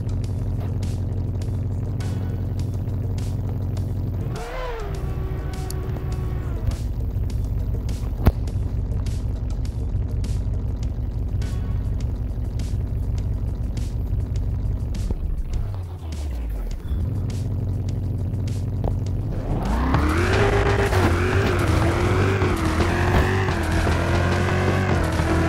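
Cars in a drag race in Tuning Club Online, a steady loud engine drone throughout with a brief dip midway, then the engine revving hard and climbing through gears near the end.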